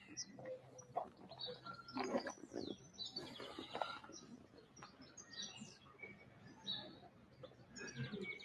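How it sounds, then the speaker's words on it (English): Several birds chirp and sing in short bursts against a busy, echoing background in a church courtyard garden in Portugal, with no one speaking. "if I stop talking long enough, maybe hear the birds"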